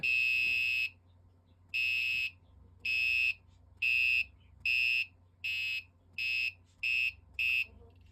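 A high electronic buzzer from an Arduino-built parking sensor beeps in evenly spaced pulses, about ten tones that gradually come closer together, with a low hum underneath.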